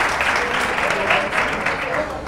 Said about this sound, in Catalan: És correcte, molt bé, un aplaudiment,